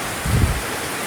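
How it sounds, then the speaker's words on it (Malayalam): A steady, dense hiss of heavy monsoon rain in Kerala fills the brief moment, with a soft low rumble in the middle. "നല്ല സൂപ്പർ മഴ നോക്കേ"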